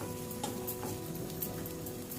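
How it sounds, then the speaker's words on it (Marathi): Gram flour (besan) roasting in a pan, a soft, continuous close sizzle with faint stirring scrapes throughout. "त्यासाठी आपण बेसन भाजून घेतोय।"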